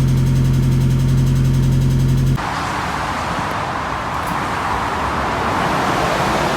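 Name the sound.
car driving on a test drive after battery install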